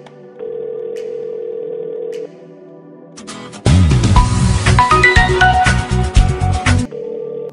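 A mobile phone call rings out, a steady repeating ringback tone with a burst of tonal melody in the middle, and no talk.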